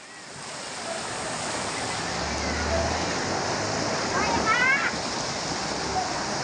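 Rushing floodwater pouring through Kalathur village, a steady loud roar of surging water that continues throughout, with faint shouting voices mixed in.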